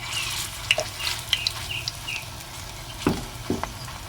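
Slices of pointed gourd (potol) frying in oil on a medium flame crackle and spit with light, irregular pops over a low sizzle, close by and with no speech.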